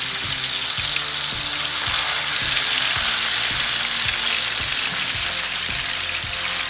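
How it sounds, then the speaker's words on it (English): Ground meat browning in half a cup of hot oil for a Mexican taco salad, a loud, steady close-up sizzle and crackle filling the whole stretch with no talking. "in half a cup of oil, we're gonna brown the meat."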